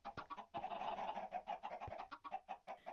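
Minecraft chickens clucking and honking repeatedly in a steady, close flurry of short calls.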